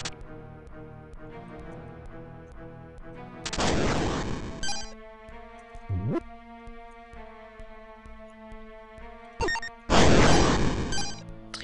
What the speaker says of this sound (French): Triple explosion.